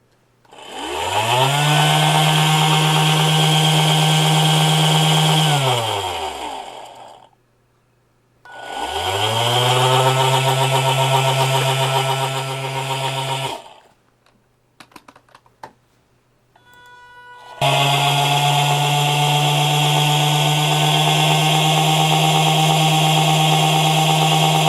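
A small DC motor driven by an Arduino through an H-bridge motor driver whines loudly, spinning up, running steady, then winding down twice before a short gap with clicks and a final sustained run.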